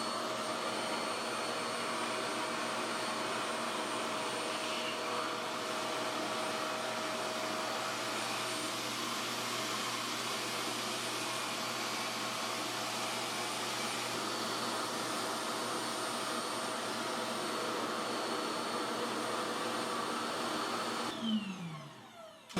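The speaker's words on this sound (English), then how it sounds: "I'm going to use my Rev Air to blow dry my hair, and I'm going to put on like a 5 setting" A Revair hair dryer set to speed 5 of 7 blows hair dry with a steady, loud, continuous whooshing roar, unchanging for about twenty seconds before it cuts off abruptly at the end.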